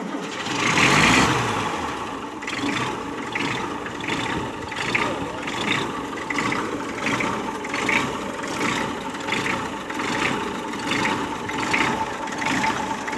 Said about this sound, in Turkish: Biraz sonra marşada basacağız, motorun çalışını dinleyecek Türkiye